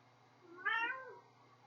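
A single cat meow, a rising and falling harmonic call lasting about half a second, fairly close and clear over a low steady background hum.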